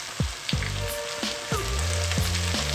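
Stale barley and brown rice stir-fried in a pan for chicken fried rice, with a steady sizzle broken by several sharp scraping stirs of the spatula, close and alone with no talking.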